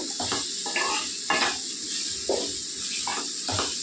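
Spiny gourd curry with salt and turmeric is stirred in a sizzling pan, with repeated scraping strokes of a spoon over a steady frying hiss. No one speaks.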